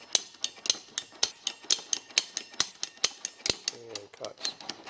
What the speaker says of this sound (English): Bigger cutter is more of a ratchet. You open it all the way and then you ratchet it down.